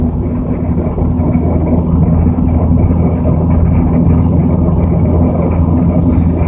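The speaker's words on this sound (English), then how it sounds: "we're taking the Subaru just for a small test drive" A 2003 Subaru Legacy Outback AWD on a test drive, its engine droning at a steady, loud hum with road and wind rumble heard from inside the cabin.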